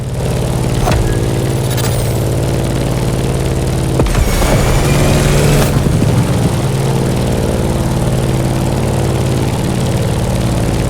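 A propeller airplane engine from the video game The Crew Motorfest drones loudly and steadily, flying through turbulent conditions, with a brief louder rushing swell partway through and no talk.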